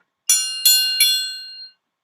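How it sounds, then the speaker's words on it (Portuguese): A triangle struck three times in steady succession, each hit giving a bright, shimmering metallic ring that overlaps the last and fades out cleanly into silence. "o triângulo do Tiago, né, do começo, o triângulo do Gael"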